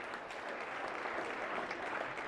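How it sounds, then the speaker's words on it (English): Applause from a crowd in a state Senate chamber during a floor session, a steady wash of clapping heard at a moderate distance with no voices over it. "If we can give them a huge round of applause, the DGS teams."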